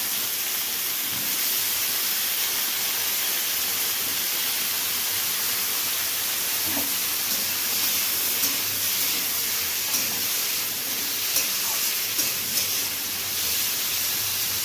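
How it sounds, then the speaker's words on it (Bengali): Potatoes frying with cumin and onion in a pan, a steady, bright sizzling hiss that continues evenly throughout with occasional faint clinks and stirring sounds. "জিরেটা ভাজা হচ্ছে এবার পেঁয়াজগুলো হালকা একটু নিয়ে নেওয়ার পর এবার তাতে আলুগুলো দেওয়া হচ্ছে"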